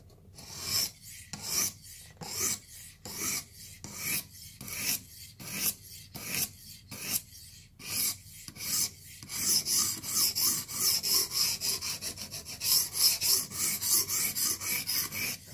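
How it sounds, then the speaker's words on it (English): Short rasping strokes of a sharpening stone taking the burr off a knife blade, about a dozen separate scrapes in a steady rhythm, then faster, denser rubbing toward the end, close up with no voices. "Taking the burr off with this stone so as to not have to deal with the shaving so much."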